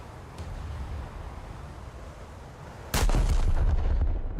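A warship's main guns fire in a naval video game, a single heavy, booming blast that breaks sharply out of low background rumble and rolls on loudly to the end.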